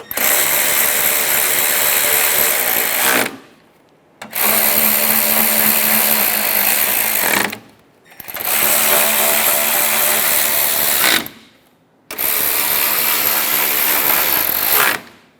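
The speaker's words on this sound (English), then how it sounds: "Install the 10mm bolts in the top of the grille. Snug them all down." A power driver snugs 10mm bolts into the top of the grille on a 2014-2018 Chevrolet Silverado 1500, running in four loud, long whirring bursts of a few seconds each, separated by short pauses.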